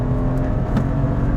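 Inside a BMW 135i E82, the engine pulls hard under acceleration, a loud, steady, close drone with a rising tone, no speech over it.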